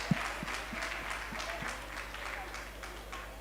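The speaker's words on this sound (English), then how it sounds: "give them another round of applause" A crowd claps steadily throughout, a dense patter of applause with a few sharper claps standing out, moderately distant.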